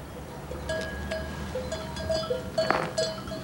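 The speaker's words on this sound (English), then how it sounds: "Sheep herders tend to their flocks." A flock of sheep wearing bells in rural Andalusia, Spain, with scattered uneven clanks and jingles of small bells over a low outdoor background, one louder cluster near the end.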